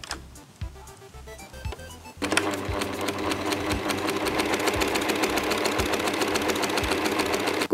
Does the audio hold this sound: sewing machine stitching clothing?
yes